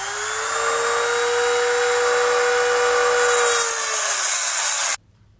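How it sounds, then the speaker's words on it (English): A rotary tool with a cutting wheel grinds off a bolt tip during a Firestone Ride-Rite air helper spring install on a 2020 Chevrolet, making a loud, close, steady high whine that winds down and stops abruptly. "I'm actually gonna use a rotary tool with a cutting wheel."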